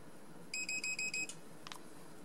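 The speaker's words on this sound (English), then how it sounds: "that beeping noise lets me know that it's paired" A dog training collar remote pairing with its collar gives a quick series of five short, high, evenly spaced electronic beeps, followed by faint clicks in a quiet room.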